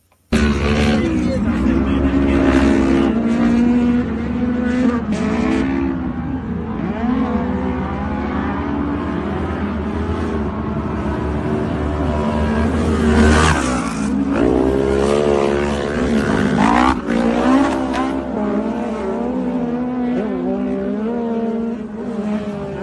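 A race car roars through a race in a played-back recording, its engine rising and falling steadily for the whole stretch, with other sounds layered in and no clear talk.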